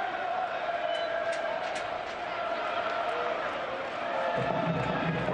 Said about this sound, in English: As you continue to hear the Rowdies faithful, the home crowd.